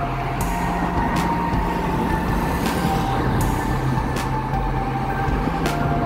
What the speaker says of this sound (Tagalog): Bibilis ng mga sasakyan dito guys eh.